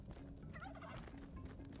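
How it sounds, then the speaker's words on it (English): A turkey gobbles in the video game Spelunky 2, a rapid warbling call heard alone over steady game background sound, moderately loud and close. "Turkey. Oh, you could ride turkeys, I think."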